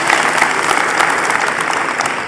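An audience at a school counselors' conference breaks into loud, sustained applause, dense clapping filling the hall for the whole stretch with no speech over it.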